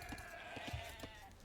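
Sheep in a medieval real-time strategy game (Arabia map) bleat in a few short, quiet bursts over a low hum of game ambience.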